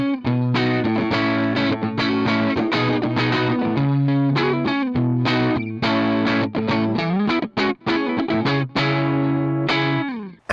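Electric guitar played clean and direct through a Tubesteader Beekeeper tube preamp, a run of chords and picked notes with ringing sustain, steady and loud, no voices.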